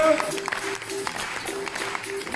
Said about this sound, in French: Allez, on peut applaudir avec eux.